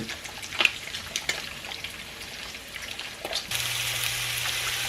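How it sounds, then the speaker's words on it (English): Bob Evans breakfast sausage sizzles and crackles in an iron skillet for gravy, a steady close hiss with scattered pops, rising to a louder, denser frying roar in the final second or so. "I just fry all my sausage in this skillet because this is what we're going to be making our gravy in."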